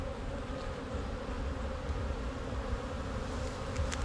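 Honey bees buzz steadily around an open hive frame of eggs and capped brood in a cell builder colony, a dense, continuous drone close by with no voices.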